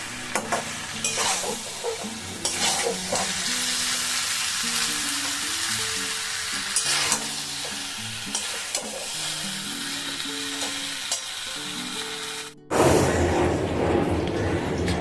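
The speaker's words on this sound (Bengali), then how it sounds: "এইভাবে কিন্তু একটুখানি সব মিশিয়ে নিতে হবে সব সেদ্ধ হয়েছে" A cooked mixed vegetable curry of drumstick, eggplant, potato, tomato and long beans is stirred in a pan, giving steady scraping and soft sizzling throughout. The sound cuts out briefly near the end before resuming.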